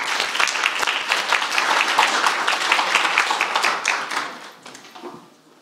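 A conference audience breaks into warm, dense applause to welcome a speaker to the stage, many hands clapping at once for several seconds before the clapping thins out and fades.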